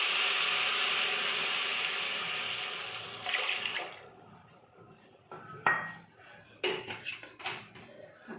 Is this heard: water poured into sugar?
yes